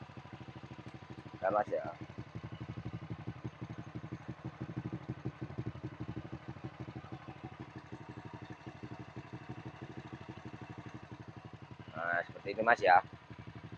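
An older Honda Supra X motorcycle engine idles with a rapid, even putter throughout, a quiet steady chug under brief bursts of speech near the start and end, without a clear rev.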